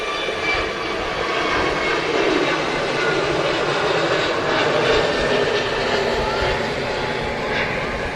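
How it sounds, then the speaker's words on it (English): Airbus A320neo jet departing Manchester Airport on a hot day, a steady broadband engine roar holding close and loud for the whole stretch with no voices over it. "The A320 Neo heading off to Sharm el Sheikh"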